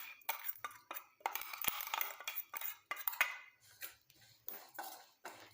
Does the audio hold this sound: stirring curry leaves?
yes